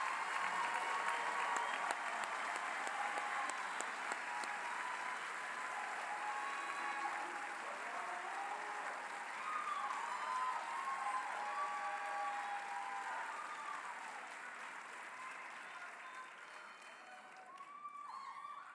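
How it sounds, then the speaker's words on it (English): Sustained applause from an audience at a corrections academy graduation ceremony fills the room, a dense wash of many hands clapping that holds steady and slowly fades toward the end. "let's give them all a round of applause"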